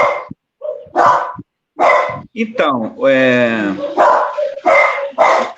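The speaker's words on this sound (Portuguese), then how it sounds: "o cachorro resolveram latir aqui agora" Dogs bark in short bursts partway through, mixed in with someone speaking Portuguese that continues throughout and mostly masks them.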